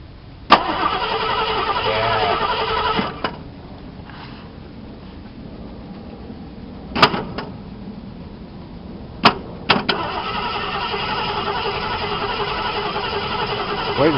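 A car engine cranks repeatedly while the fuel system is being primed, several bursts of starter churning separated by pauses, with brief sharp clicks and a short final crank near the end.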